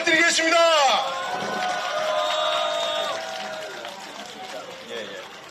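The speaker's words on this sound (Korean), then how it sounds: "큰 박수 부탁드리겠습니다." A crowd at an outdoor campaign rally in Cheonan cheers and applauds loudly, the noise swelling at first and then slowly fading while a voice carries over it.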